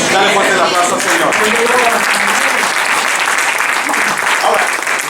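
A church congregation applauds loudly and continuously, dense clapping filling the room with voices mixed in throughout.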